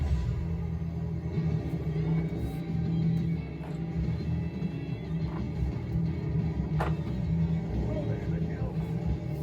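A car engine in Team Sonic Racing on Xbox One, driven with a Logitech G29 wheel and pedals, gives a steady, loud, droning rumble that holds without pause throughout.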